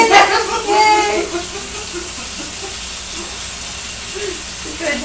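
Meat sears in a hot pan, its fat rendering out in a steady broad sizzle and hiss that stays under a voice talking near the start and again toward the end.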